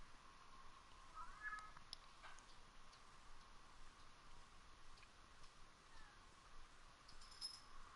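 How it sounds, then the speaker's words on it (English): A house cat meows faintly a couple of times in a quiet room, the short calls sitting low above a soft, regular ticking that repeats throughout. "And my cat's meowing."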